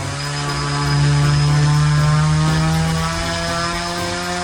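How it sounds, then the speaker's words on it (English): A UAV motor spinning a larger carbon fiber propeller on a thrust test rig makes a loud, steady, droning whir. The pitch holds a strong tone that swells slightly in the middle before easing off. "Then we used that same motor with a larger carbon fiber propeller."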